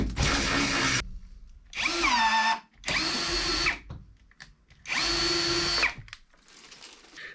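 A power drill whines through several holes in a van's panels, drilling them out to 9 or 10 mm in bursts of about a second each, separated by brief pauses, close and loud.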